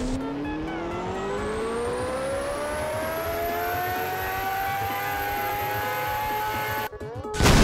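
A car engine running on an engine dyno in the Roblox game Car Crushers 2: a loud, continuous synthetic engine whine that climbs steadily in pitch, then cuts out abruptly near the end.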